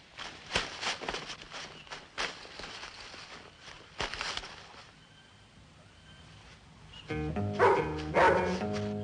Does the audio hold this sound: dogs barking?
yes